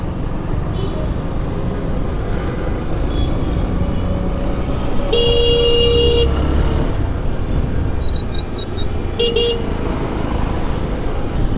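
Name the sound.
auto rickshaws and traffic honking on the road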